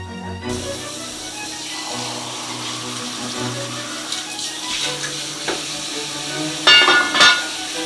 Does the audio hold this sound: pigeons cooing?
no